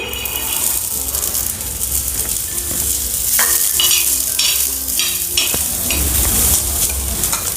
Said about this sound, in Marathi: तुरीचे दाणे भाजून घेते।